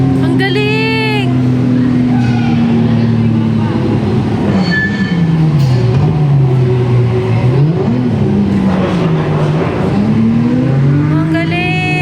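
Car engine in a VR driving video game, a steady droning engine tone with pitch that rises and dips as the car accelerates and slows, loud throughout under excited shouting and chatter from people in the room.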